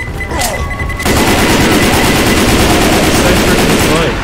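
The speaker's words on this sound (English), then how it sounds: "I'm shooting it." Rapid, loud automatic gunfire from the Left 4 Dead 2 video game rattles continuously after a brief lead-in, with players' voices mixed in beneath the shooting.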